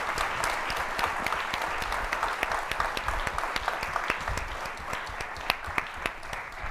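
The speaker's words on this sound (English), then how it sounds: "Please join me in giving our panelists one more round of applause." A summit audience applauds its panelists, steady, close clapping from many hands that holds evenly throughout, with a few sharper individual claps standing out near the end.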